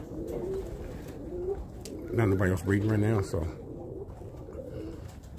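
Birmingham Roller pigeons coo in a loft: a short burst of low, throaty cooing in the middle, with someone talking quietly before and after.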